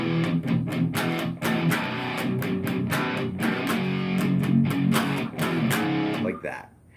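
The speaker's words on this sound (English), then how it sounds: "add in 3 muted chugs" Electric guitar playing a strummed pattern with muted chugs, from a song, in rapid rhythmic close strikes for several seconds before fading out.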